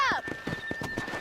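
A horse in the video game Red Dead Redemption gives a brief whinny, then quick, rhythmic clip-clop hoofbeats follow at a steady trot, close and moderately loud.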